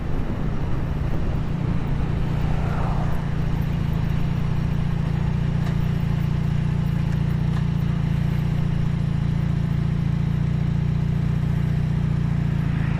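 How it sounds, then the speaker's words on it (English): A restored 1979 Honda CM400T two-cylinder motorcycle idles steadily, a low continuous throbbing rumble that stays loud and close throughout with no talking. "I like how it sounds. Like a proper 2-cylinder bike."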